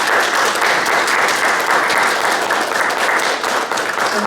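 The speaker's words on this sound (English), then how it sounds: "I'd just like one more round of applause for both our poets." An audience at a poetry reading gives a loud, sustained round of applause for two featured poets, a dense even wash of many clapping hands with no speech over it.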